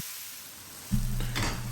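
Onions frying in a pan for a vegan mango and cauliflower curry: quiet hiss at first, then a louder burst of sizzling and a stir with a brief clatter as the onions go in, close by.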